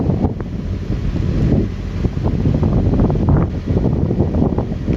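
Gusty wind buffets the microphone in low rumbling bursts, uneven and close, with no speech.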